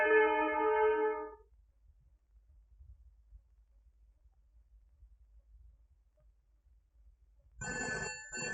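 A telephone rings in a short burst, then goes quiet for several seconds before a second burst of ringing starts.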